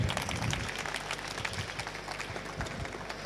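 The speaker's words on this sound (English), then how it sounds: "Please give a big hand of applause to Ferdinando." A lecture audience applauds a speaker at an astronomy talk, a dense, moderate patter of many hands clapping at once, heard from within the room at a steady level.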